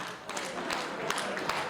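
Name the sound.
wedding guests applauding the newlyweds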